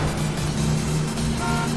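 A car horn honks in the Yakuza 5 video game, a sustained tonal toot over steady traffic-like engine noise, with a second higher honk near the end; no one talks.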